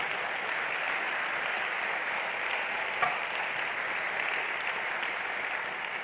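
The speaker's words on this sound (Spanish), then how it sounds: "Fuerte el aplauso al Señor." Church congregation applauds during a Spanish-language sermon, a continuous wash of many hands clapping at moderate distance, steady throughout with one sharper clap near the middle.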